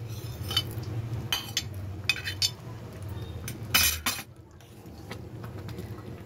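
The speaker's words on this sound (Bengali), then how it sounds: "এই ডিমের ভুজিয়াগুলো আমি দিয়ে দিচ্ছি।" Scrambled egg bhujia is tipped into a pan of egg curry, giving scattered metallic clinks of a spoon against the pan and a few scraping stirs, close and fairly clear, then fading to a quiet hiss.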